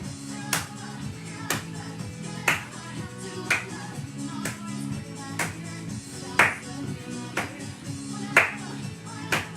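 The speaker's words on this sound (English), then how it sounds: "Same thing, let's clap." Sharp claps from a Latin dance fitness class land in a regular beat roughly every second over upbeat 123 BPM Latin music, each clap crisp and prominent against the steady rhythm.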